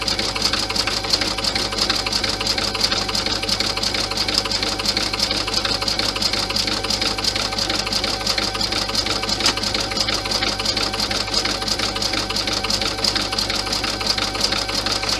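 Sewing machine stitching a seam on a cross-body messenger bag, a steady close-up mechanical whir and rapid needle clatter running evenly without pause and without talk.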